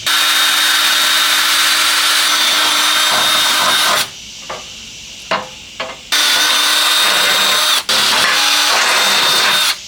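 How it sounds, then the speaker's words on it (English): A power drill whines continuously into wood, pausing briefly with a few short bursts before drilling resumes loud and close. "I'm gonna start with a small drill bit and then work my way to a bigger size."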